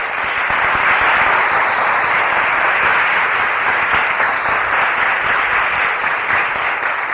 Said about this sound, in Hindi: एक बार जोरदार ताली उनके नाम से।